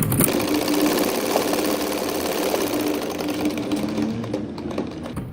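A sewing machine stitches ribbons along the edge of a neck design, running in one continuous, close, steady mechanical whir.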